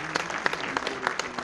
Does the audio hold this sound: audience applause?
yes